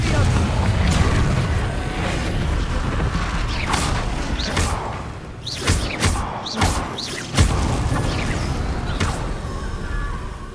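Confringo blasting curse explosions in Hogwarts Legacy, several sharp booms and thuds among mechanical spell clatter and creaks, loud and close.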